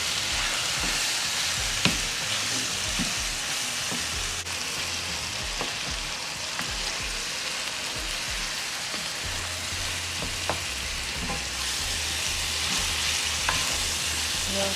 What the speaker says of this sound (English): we're going to mash our meat in really fine. And we're going to mix in our onions